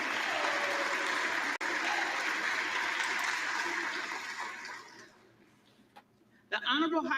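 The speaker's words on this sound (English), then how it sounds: "But they just all stood up and clapped." House members stand and applaud during the vote for Speaker of the House, a loud, sustained wash of clapping from a large chamber that gradually thins and fades, with voices and a brief burst of noise near the end.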